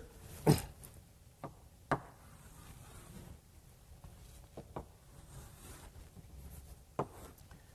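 Marker strokes and taps on a board while someone sketches a diagram: several sharp clicks and scrapes spaced irregularly over a quiet background, with no talking.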